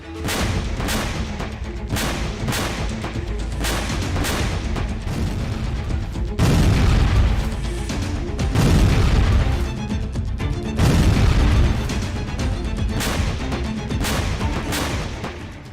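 Russian Iskander-M missile strikes on Ukrainian cities including Kharkiv: repeated heavy booms and blasts, with several louder impacts standing out from a dense, rumbling run of explosions.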